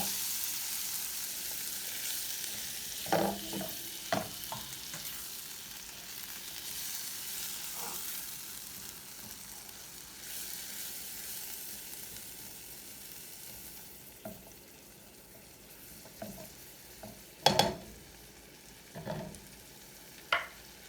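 Vegetables cook in a pan for a Hoppin John and soul food kale dish with a soft, continuous sizzle, broken now and then by the clacks and scrapes of stirring, which grow louder near the end.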